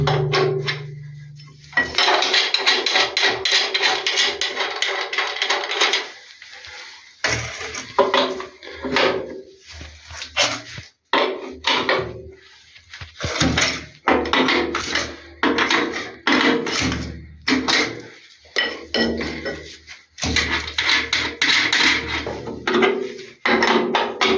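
Hammer blows strike wooden concrete formwork for a treatment station's roof slab as it is taken apart, mixed with knocks and scraping of boards. Fast runs of blows alternate with short pauses, close by and loud, with no talk.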